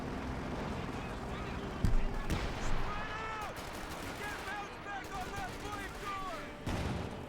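Pak anti-tank guns fire in a Company of Heroes 2 multiplayer battle, sharp cracks and booms popping amid distant gunfire and rumbling explosions, with a commentator talking over the game sounds throughout.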